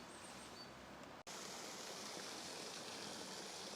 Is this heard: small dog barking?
no